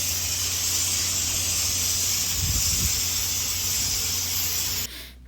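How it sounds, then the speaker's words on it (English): Steady loud hiss and broadband rumble from a construction crew working on a bridge pylon in the Florida Keys, continuous and close, with a brief low thump midway before cutting out near the end. "that sound you heard in the background was a construction crew working on the pylon"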